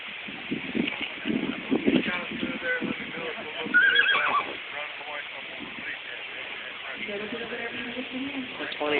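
A horse at a horse clinic training demo whinnies loudly midway, with hooves clip-clopping and wind noise throughout while people talk nearby.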